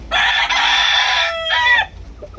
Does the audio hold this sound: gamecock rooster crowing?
yes